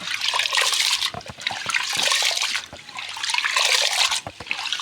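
Water is poured in several sloshing bursts over urad dal as it is rinsed, with splashing and trickling that fades briefly between pours, close and fairly loud.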